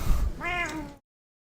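A cat gives one clear, close meow after a brief rustle, the call rising and falling before the sound cuts to silence.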